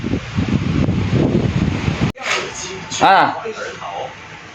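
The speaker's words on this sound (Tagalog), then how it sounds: "grabe pong hangin kabayan na habagat" Strong habagat monsoon wind in Taiwan, with no rain, rushes as a broad, loud roar for about two seconds before cutting off, followed by someone talking.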